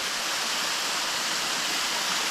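Steady broadband rush of a stream flowing down into a small pool at an old goldmine site on Mount Te Aroha, constant and fairly close with no voices.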